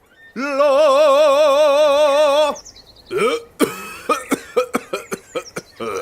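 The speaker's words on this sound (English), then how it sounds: "He coughs so hard that I don't think we can talk at all" A long warbling tone gives way to a string of hard, rapid coughs, about eight in quick succession, loud and close.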